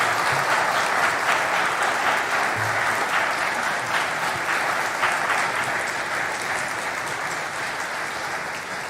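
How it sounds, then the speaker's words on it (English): An audience at a talk claps for the speakers, a sustained round of dense applause that stays strong and tapers off slightly toward the end. "Can we please get another round of applause for our speakers?"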